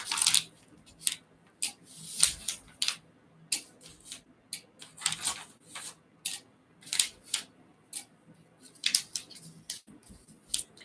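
Scissors cut through old T-shirt fabric for a bodysuit, giving close, crisp snips in irregular bursts separated by quiet pauses.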